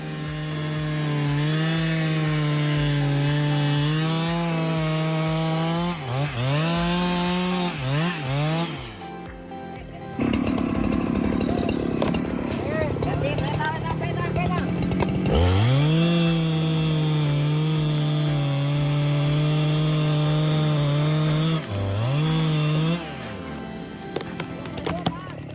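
A woodcutting machine with a large saw cuts through big 22-foot pine logs, giving a loud sustained motor whine that dips under load in repeated passes, with a brief pause around the middle.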